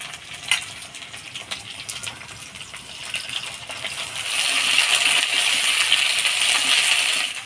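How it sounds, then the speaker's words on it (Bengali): Potato pieces fry in oil while being stirred, a close sizzle with sharp clinks of a utensil against the pan early on, swelling into a louder, denser crackle in the second half; no speech. "আলুটা তেলের মধ্যে দিয়ে নাড়াচাড়া করে নিলাম।"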